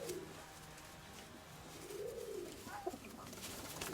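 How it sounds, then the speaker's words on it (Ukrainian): A pigeon coos softly in a low, rolling call, heard twice over a steady background hiss, somewhat distant and faint. "Це голубка."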